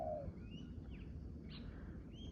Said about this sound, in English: These are our morning birds.